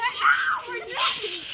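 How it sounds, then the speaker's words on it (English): A child shrieks in two brief, high-pitched bursts up close during rough play, with a giggly edge to the voice. "Stop screaming."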